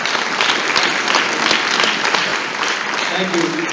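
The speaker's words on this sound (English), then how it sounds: "how about a round of applause for our two candidates that are here this evening?" Audience applause fills an evening state senate debate hall, a steady dense wash of many hands clapping that holds without pause and stays loud throughout.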